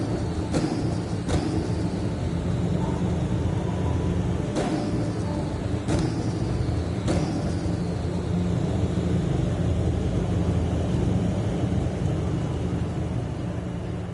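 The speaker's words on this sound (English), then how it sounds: "that's quite a whistly engine" A whistly car engine in Gran Turismo 7 on PSVR2 gives a steady low drone, with repeated high whistling whines rising and falling at a moderate distance, about five in a row.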